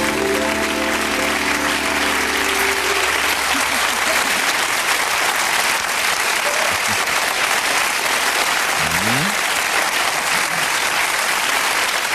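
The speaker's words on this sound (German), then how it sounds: "das war kein netter, das war sehr, sehr guter Applaus" Studio audience on a TV show applauding loudly and steadily, dense clapping that carries on for the whole stretch, with music fading out near the start.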